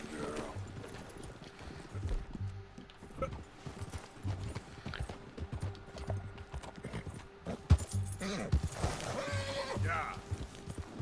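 A horse in the Red Dead Redemption 2 game, with clip-clopping hooves and whinnies under frequent speech, at moderate loudness with irregular hoof strikes.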